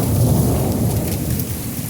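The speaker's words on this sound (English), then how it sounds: "You can see the rain and see the water running." Heavy rain pours steadily during a Hill Country storm, loud and close, with a low thunder rumble running underneath.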